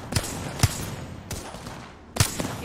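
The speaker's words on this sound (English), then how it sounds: "Getting shot at." Bursts of gunfire in the online battle-royale game Apex Legends: four sharp shots spaced unevenly over a few seconds, fairly close and loud against a low noisy background with no talking.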